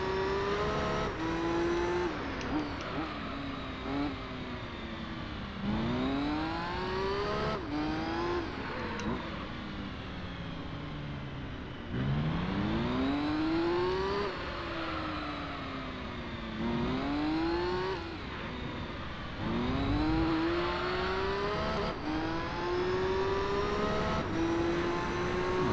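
A race car engine in Gran Turismo 3 endurance racing on worn front tyres, revving hard and rising through the gears with repeated shifts and lifts, steady and close for the whole stretch, with faint tyre noise beneath.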